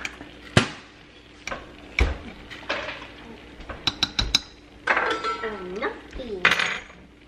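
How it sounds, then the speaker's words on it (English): A utensil stirs spaghetti marinara sauce in a pot, with clanks and taps against the metal at first, then a stretch of wet scraping and swirling, close and clear with no talk. "I'm gonna give this a one little mix here"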